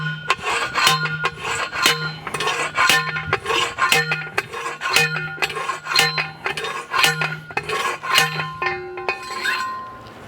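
A trellis stake is pounded into garden soil beside tomato plants, making loud, close, repeated metallic strikes at a steady rhythm of roughly two per second with ringing clinks between blows.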